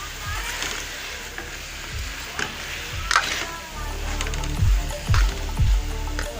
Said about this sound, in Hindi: चिकन हमारा फ्राई हो गया है।